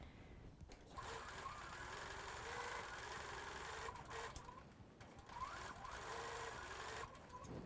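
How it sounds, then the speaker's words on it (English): Sewing machine stitching a Christmas holly quilt block, a steady mechanical whir with short pauses between runs of stitches, running alone with no talk. "let's go sew that"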